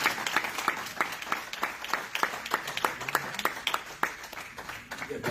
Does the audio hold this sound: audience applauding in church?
yes